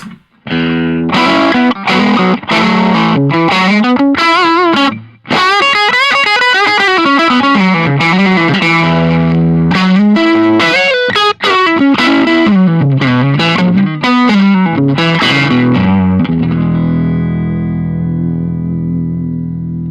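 An electric guitar runs through a Euphoria overdrive pedal set fairly transparent into a Marshall Class 5 amp, playing a melodic lead phrase with mild crunchy distortion. It is loud and close and ends on a sustained, ringing chord.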